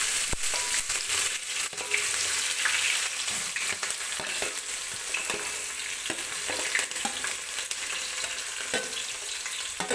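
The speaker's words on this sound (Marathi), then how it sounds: "कांदा आपल्याला हलकासा गोल्डन होईपर्यंत व्यवस्थित भाजून घ्यायचा आहे बरं का तेलामध्ये" Chopped onion frying in hot oil with cumin seeds for chicken pulao, a steady dense sizzle with occasional crackles and stirring scrapes throughout, close and loud, with no talking.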